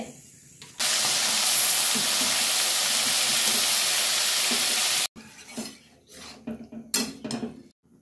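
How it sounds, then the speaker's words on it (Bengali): Chicken sautéing in hot oil: a loud, dense hiss erupts and holds for several seconds, then gives way to intermittent spatula scraping and stirring clatter against the pan with softer sizzling underneath. "এটা কষানো হচ্ছে।"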